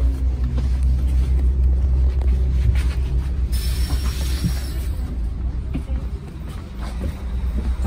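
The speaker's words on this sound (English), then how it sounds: "My ride on the CT Roussillon 807-8220." Inside a Prevost coach bus, CIT Roussillon 8078220, a steady low engine rumble and road drone continue evenly throughout the ride, loud and close.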